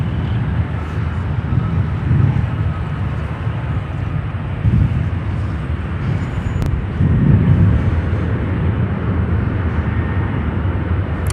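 A Boeing 747, the "queen", on runway 10 Center at Chicago O'Hare gives a steady, continuous low jet roar, loud and unbroken throughout, with a slight swell near the middle.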